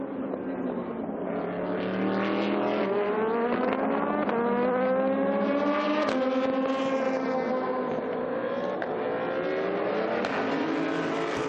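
A Ligier and an old Zetec-engined race car battle on track at Paul Ricard, their engines droning loudly and continuously, with pitch rising and falling through gear changes as they run close together.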